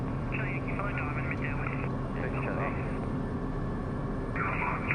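A light aircraft engine held at about three-quarter throttle during the takeoff power-up gives a steady, moderate drone, with intermittent radio-style voices over it.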